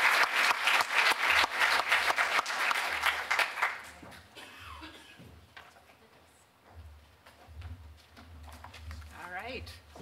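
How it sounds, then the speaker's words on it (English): An audience at a data forum applauds panelists with loud, dense clapping that fades after about four seconds, followed by quieter room noise, shuffling and a voice speaking near the end. "let's join me in a warm applause for Ashley"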